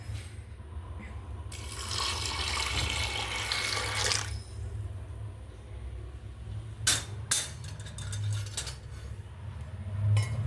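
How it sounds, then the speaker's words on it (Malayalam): Boiled and cooled water pours steadily into a pot of green gram for a couple of seconds, followed by a few light clinks and knocks of metal utensils. "നമുക്കിതിലേക്ക് തിളപ്പിച്ചാറിയ വെള്ളം ഒഴിക്കാം."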